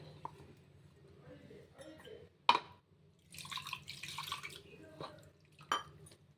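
Blended carrot and beetroot smoothie drips and trickles through a strainer, with faint liquid patter, a sharp clink of utensils against a vessel and soft kitchen handling sounds, all fairly quiet and close.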